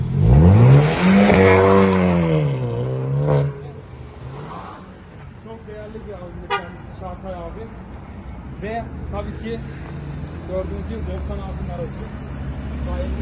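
At a nighttime roll race in İzmir, a car roars loudly past nearby with a rising then falling engine pitch, followed by quieter idling and revving engines under a crowd's chatter and voices.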